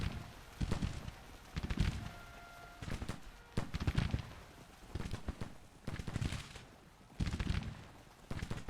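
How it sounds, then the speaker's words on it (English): Cavalry musket volleys in a Civil War battle from Grand Tactician crackle out in repeated ragged bursts about every second, mid-distance and fairly loud, with no talk. "cavalry's firing into their rear"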